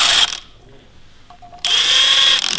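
A ratchet with a 10mm socket turning bolts on an M20 engine head: two bursts of rapid, bright mechanical clicking, near and loud, separated by a quiet gap with a few faint metallic ticks.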